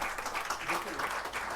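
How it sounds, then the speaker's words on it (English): Applause from an audience welcoming architect Hafiz Contractor on stage, a steady wash of clapping throughout at moderate distance, with some murmuring mixed in. "Let us invite him with a burst of applause."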